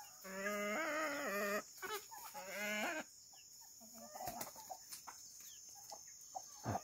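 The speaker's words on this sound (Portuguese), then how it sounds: "Tem galinha pra caramba" Chickens cluck and squawk up close on a small farm, with two long drawn-out calls followed by scattered shorter clucks and rustling, fairly quiet overall.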